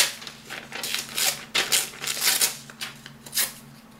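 Paper is torn by hand in a run of short rasping rips, about eight crackly bursts spaced unevenly and close to the microphone, with a faint low hum underneath.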